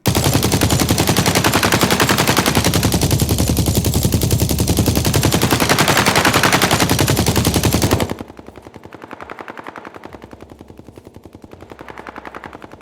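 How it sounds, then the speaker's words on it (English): Rapid gunfire from a game-audio setup built in Unreal MetaSounds, with distance and elevation spatialization: about eight seconds of loud, dense automatic shots, then a quieter, more distant burst of fire with a softer, filtered tail. "giving a hint whether the gunshots are coming from above you or below you"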